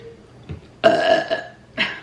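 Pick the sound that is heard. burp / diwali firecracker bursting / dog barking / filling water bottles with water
burp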